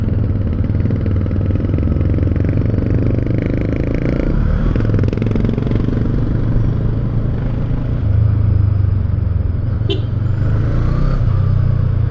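A big bike motorcycle riding in city traffic, with a loud continuous engine drone and road rumble, a slight rise in revs partway through, and other vehicles nearby.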